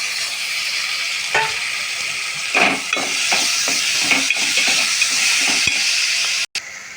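Tomatoes frying with onions in a hot pan give a loud, steady sizzle, broken by repeated scraping clatters as the mixture is stirred, with a brief drop near the end.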